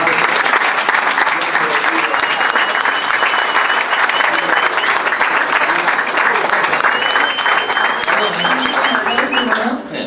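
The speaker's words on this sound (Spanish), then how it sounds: "Bueno, un aplauso ahí." Church congregation applauding during a Sunday sermon, steady dense clapping filling the whole stretch, loud and sustained with no voice over it until a brief drop at the end.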